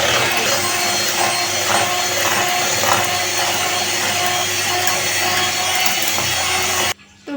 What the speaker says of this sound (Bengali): তো ব্লেন্ডারে আমার করা হয়ে গেছে হ্যান্ড মিক্সে।